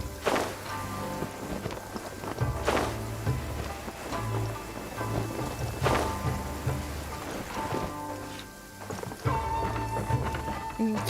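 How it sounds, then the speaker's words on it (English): Heavy rain pours down steadily in Genshin Impact during a trip to Inazuma City. Low rumbles of thunder roll through it, and faint footsteps pass under the hiss of the downpour. "Whoop, starting to rain."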